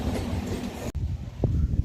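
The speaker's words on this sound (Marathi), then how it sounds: "आणि माझ्या मागे ट्रेन बघू शकता इथे" A Diva passenger train at a railway station rumbles steadily nearby, with a sharp clack partway through and a few wheel knocks and short squeals over the low drone.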